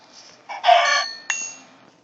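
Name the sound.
chicken clucking in a survival video game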